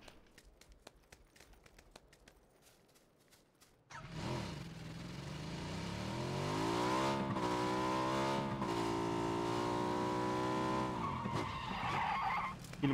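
In PUBG, a three-seat motorcycle starts up after a few seconds of quiet clicking, and its engine rises in a revving whine that climbs and shifts pitch as it drives, with a tire skid near the end.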